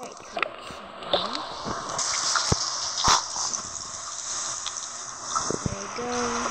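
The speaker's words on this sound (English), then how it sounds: "I'm gonna take a very, very, very, very quick shower" Household shower water running and splashing in a bathroom at night, a steady close hiss with a few brief knocks and squishy handling noises, and a person's voice briefly heard over it.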